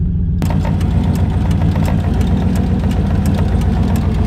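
A turbocharged LS-swapped Mustang idles after a starter-wire repair, a loud, close, steady low rumble with a lumpy, even pulse that starts abruptly and holds without anyone speaking.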